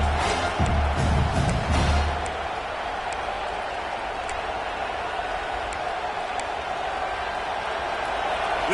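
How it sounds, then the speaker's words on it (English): A stadium crowd in a college football video game, Alabama, roars in a steady, dense wash of cheering, with a few louder thumps and a voice early on before settling into a sustained hum. "This crowd knows they have to bring it in big moments, and one of those has arrived"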